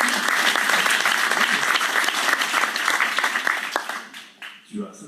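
A crowd claps warmly as a candidate on a citizens' cooperative election list is introduced, the dense applause holding steady and then thinning and fading out, with a brief voice near the end.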